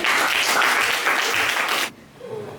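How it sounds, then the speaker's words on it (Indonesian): Classroom applause for a presenting student group, loud, dense clapping from the class for about two seconds before it cuts off to quiet room noise. "tepuk tangan buat nomor 3"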